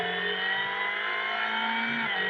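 A car engine revs steadily upward while accelerating in a driving video game, a continuous buzzy tone running loud and unbroken throughout, with no voices.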